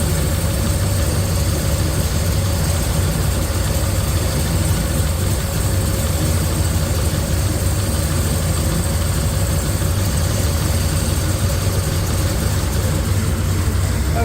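Supercharged engine in a 1955 Chevy running at a cold idle, a steady, loud low rumble with an even mechanical drone that holds unchanged throughout, no voices.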